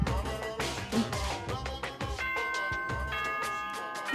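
Doorbell chime from the video game Danganronpa, a bright melodic ding-dong pattern rising over soft background music, moderately quiet and repeated twice.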